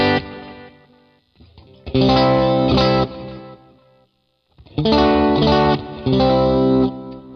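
Electric guitar with a humbucker pickup played through a ToneX amplifier tone, two loud strummed chord phrases with sustained, slightly driven ringing and short pauses between, no talking.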